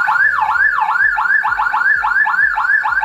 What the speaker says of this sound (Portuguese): a buzina parece que tá meio remixada